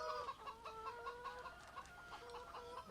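Chickens cluck repeatedly in Farming Simulator 17, a steady chorus of short rhythmic clucks layered over a continuous farmyard ambience at moderate loudness.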